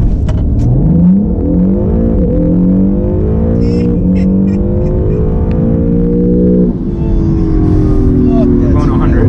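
A new Acura NSX launches hard with launch control, its engine rising in pitch through gears with a brief dip at a shift, loud and close, while a voice speaks over the roar.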